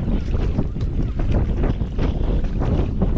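A strong headwind buffets the microphone on a rowed boat at sea off the Glénan islands, gusting in rough, uneven bursts over a low roar of wind and water.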